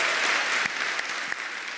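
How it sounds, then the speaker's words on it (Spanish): A church congregation applauds in a dense, even wash of clapping that fades slightly toward the end, with no talk over it. "Dale un fuerte aplauso a Dios esta mañana."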